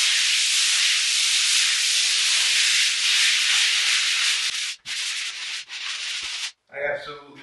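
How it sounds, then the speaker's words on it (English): Steady, close hissing scrape of drywall being sanded on butt joints during a farmhouse remodel, a continuous rough rubbing broken by a few short pauses near the end. "I absolutely despise drywall sanding."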